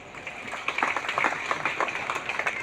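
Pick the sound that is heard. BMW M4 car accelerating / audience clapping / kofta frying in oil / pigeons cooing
audience clapping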